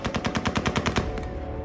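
A rapid burst of automatic gunfire from a Taliban fighter at Kabul airport, about ten sharp shots in quick succession, then a pause, a couple of fainter shots and a ringing tail.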